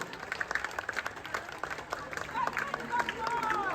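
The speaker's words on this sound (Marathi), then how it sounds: "शेवटपर्यंत टाळ्या वाजत यायला पाहिजे" Crowd applause for a women's Govinda team forming a dahi handi pyramid, continuous uneven clapping from a large outdoor gathering, with voices and shouts running underneath.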